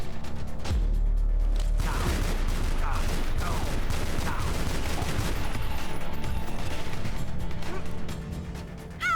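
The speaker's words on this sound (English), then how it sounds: "I think I'd rather just have this little SMG" Submachine gun fire in Tomb Raider: Legend, delivered as loud bursts and fusillades that stay dense across the whole stretch, mixed with game effects and impacts.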